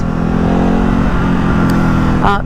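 A 2024 Ducati Hypermotard 950 SP twin-cylinder engine revs loud and close in sport mode, a deep steady growl that holds throughout and rises sharply right at the end.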